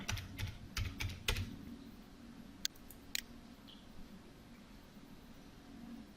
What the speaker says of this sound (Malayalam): അതിനുശേഷം പാസ്വേഡ് എൻ്റർ ചെയ്യുക.